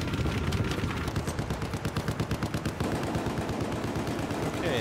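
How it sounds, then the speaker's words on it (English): Machine gun fire rattles in the video game Battlefield 4 as a fast, steady stream of close shots with a brief break partway through, then more shooting and a dense crackle of battle noise. No voices are heard. "Spotted hostile machine gun."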